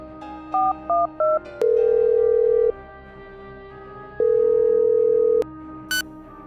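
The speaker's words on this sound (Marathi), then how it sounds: "याच रागात सत्यजितने शिवाला फोन लावला" A few short electronic dialing beeps are followed by two long, steady ringback tones, then a brief click, with no talking.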